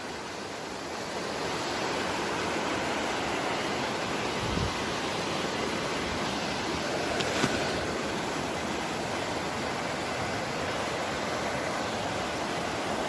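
Flood water from a cloudburst in Uttarakhand roars down a river in a loud, dense, unbroken rush, close and steady throughout with no voices.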